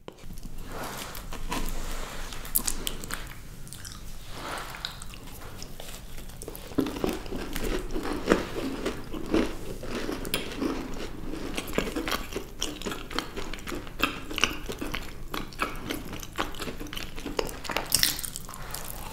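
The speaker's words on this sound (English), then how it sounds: "today we're going to be eating milk and white chocolate desserts." Milk and white chocolate desserts, including a brookie and cream-filled mochi, being bitten and chewed up close, with soft squishy, sticky mouth sounds and occasional crinkles repeating throughout, without any speech.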